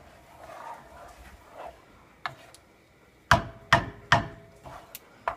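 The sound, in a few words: knife cutting butter for croquette roux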